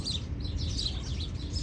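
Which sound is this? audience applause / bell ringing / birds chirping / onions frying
birds chirping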